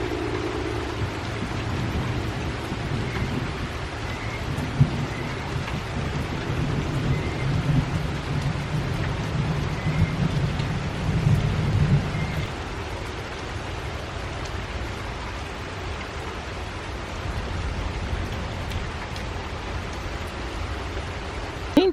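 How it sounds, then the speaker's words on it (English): A heavy rain downpour falls in a garden during a hot, dry spell, with steady loud hiss throughout and a low thunder rumble swelling in the first half before easing away, no voices. "we're getting a good downpour today, and we really need it"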